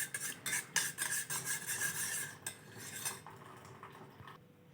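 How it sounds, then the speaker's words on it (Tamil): Honey being stirred into a cup of hibiscus flower tea with a metal spoon, a run of close, quick clinks and scraping against the cup that slows and fades toward the end, with no talking. "நான் வந்து இப்போ தேன் கொஞ்சம் கலந்துக்கிறேன் தேன் கலக்கிறேன்"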